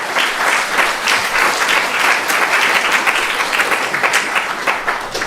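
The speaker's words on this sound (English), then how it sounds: "Please give them a big round of applause." Big round of applause from a temple audience at a Sunday feast program, dense steady clapping from many people, close and loud throughout, no talk.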